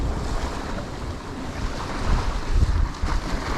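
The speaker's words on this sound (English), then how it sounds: "that wind is really picking up now" Strong seaside wind gusting at about 40 mph over coastal rocks where someone is fishing, roaring steadily close to the microphone with surging buffets and a wash of surf beneath, no voices.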